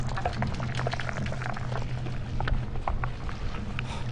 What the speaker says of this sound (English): I think it's bubbling.